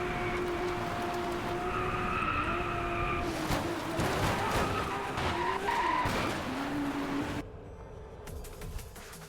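Tires screech as a car brakes hard and skids through a turn in the Driveclub racing game, the engine droning throughout before the noise drops off abruptly near the end.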